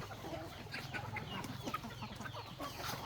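Chickens cluck and chatter together in a Thai poultry pen where birds are sold in pairs, a busy, steady flock noise with repeated short calls throughout and no speech.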